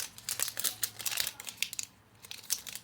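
Wrapping on a package crinkles and rustles in quick, irregular bursts as it is opened by hand, close but fairly quiet, with no talking.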